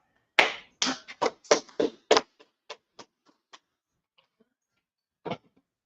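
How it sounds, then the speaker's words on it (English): A few people clap their hands at a celebratory gathering, starting with a burst of close, sharp claps that thin out into scattered single claps before one last clap. "Clap it up."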